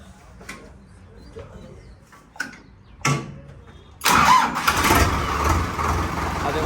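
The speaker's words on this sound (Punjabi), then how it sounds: "ਸਟਾਰਟ ਕਰਕੇ ਟਰੈਕਟਰ ਦੀ ਸਟਾਰਟ ਕਰੀ ਤੇ ਕਲਚ ਨੱਪੀ" A Preet tractor with an engine fault cranks after a few quiet knocks, then its diesel engine catches and runs loudly and roughly at close range, with pigeons cooing in the background.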